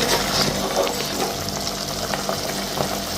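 Water splashes and hisses steadily into a hot pan while cooking prawns ghee roast, a continuous sizzling wash of sound at close range.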